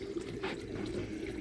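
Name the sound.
koi pond skimmer running on the water surface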